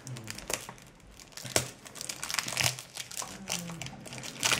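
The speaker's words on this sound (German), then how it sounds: "Ich werde das mal auspacken." Plastic and cellophane packaging on a Glossybox beauty product crinkles and tears as it is unwrapped up close, a steady crackling rustle with sharper crunches throughout.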